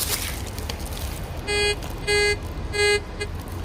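A metal detector's pinpointer sounds three steady electronic beeps at an even pace, close and clear over faint street background, during street metal detecting.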